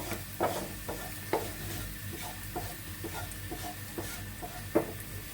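Food sizzles faintly in a pan, with occasional sharp scrapes and clinks of a utensil stirring.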